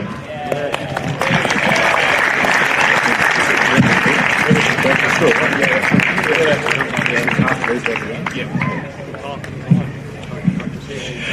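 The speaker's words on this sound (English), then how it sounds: "another round of applause for our runners up today, North Shore Mariners" Steady applause from a crowd at a football grand final presentation fills the whole stretch, loud and sustained, with a voice speaking over the clapping.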